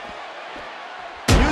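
Steel ring steps slammed into a wrestler as a weapon in the WWE 2K15 wrestling video game: one heavy, loud crashing impact lands near the end, after a steady low arena hum.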